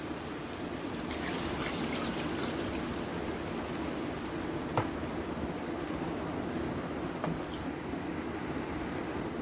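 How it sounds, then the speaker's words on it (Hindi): Two glasses of water are poured into a pot of mutton browned with spices for palak gosht, giving a continuous trickling splash with a couple of faint glassy clinks and no talking. "अब मैं इसमें 2 गिलास पानी डाल रही हूँ।"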